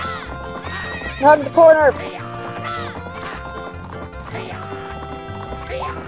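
Horses galloping in a race in Majora's Mask, with neighs and clip-clop hooves running steadily throughout the game music, while a voice speaks over it.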